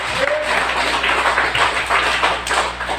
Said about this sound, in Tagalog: Ato siyang hatagan ng masigapong palakpak.